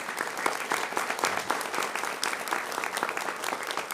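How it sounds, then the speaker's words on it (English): A crowd at a governor's bill-signing event breaks into steady applause, a dense continuous wash of many hands clapping at moderate volume throughout. "If we give a round of applause for Senator Bergen."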